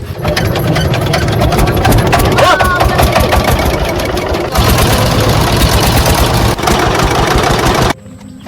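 A boat engine on a Sundarbans river runs loud and close in the morning, a continuous rough chugging drone with people talking over it before it drops away at the end.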